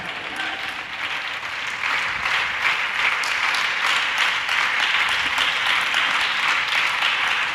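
A church congregation breaks into sustained applause, a dense, steady wash of many hands clapping together that swells slightly after the first couple of seconds and carries on evenly throughout.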